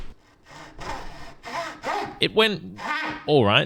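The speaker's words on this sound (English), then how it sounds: "And then the hacksawing was also disgusting." A hacksaw blade cuts a circle in thick wood, with a few rough, rasping strokes early on before a person speaks over the later part.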